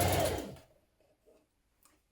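A sewing machine stitching a blouse sleeve runs in a short whirring burst up close, then stops, leaving near silence with faint handling noise.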